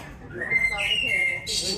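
A person whistles an imitation of a blackbird's call at a Gaulish-themed banquet show, with a clear rising whistle and a few sharp warbling notes over a low murmur of room noise.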